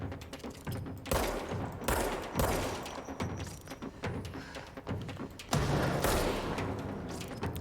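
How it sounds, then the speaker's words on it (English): Repeated explosions and gunfire in the video game Control, a dense barrage of heavy booming blasts and rattling shots in quick succession, loud and close throughout. "Who is throwing grenades at me?"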